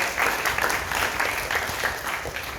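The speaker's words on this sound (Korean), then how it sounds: "자, 박수로 맞이합시다." Students at a juvenile detention center clapping to welcome a guest lecturer, a brisk, fairly loud round of applause with rhythmic pulses of many hands and no speech over it.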